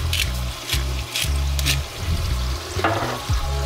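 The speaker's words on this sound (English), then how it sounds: "That stirred up nice and good." Beef and peppers for Tex-Mex enchiladas stirred in a hot pan, a close sizzle broken by rhythmic scraping strokes of a utensil, repeating several times with short gaps.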